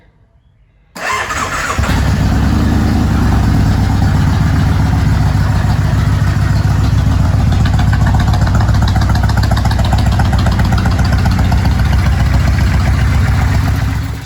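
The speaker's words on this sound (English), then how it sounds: "we're going to give it a start up. And just run it a little bit" A Kawasaki Vulcan Nomad 1600 motorcycle cranks and fires after an oil change, then settles into a steady, loud, close idle that runs unbroken to the end.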